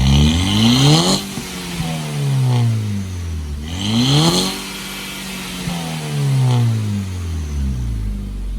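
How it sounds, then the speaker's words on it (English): A Volkswagen Mk5 GTI engine with a newly installed downpipe and the muffler removed revs repeatedly, three loud sweeping rises and falls in pitch close by, with no talk. "I think it's when you rev it low, it does that."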